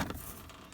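A tool box drawer on a service truck slides open in one short, fairly loud scrape with a brief rattle, heard outdoors with no talking.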